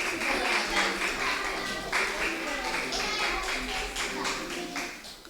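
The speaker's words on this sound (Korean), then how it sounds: "우리 박수로 하나님께 영광 올려드리시겠습니다." A church congregation claps together in a steady, moderately loud burst of applause, with voices mixed in underneath.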